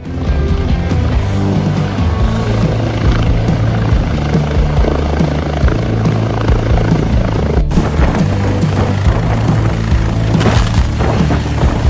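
A loud helicopter roars close by as it flies between two tightly spaced hangars, its rotor chop and engine whine steady and intense, with a sharp shift partway through as it passes.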